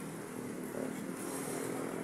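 A motorcycle engine runs steadily close by for about two seconds, with a fairly even drone and a slight swell in the middle and no talking.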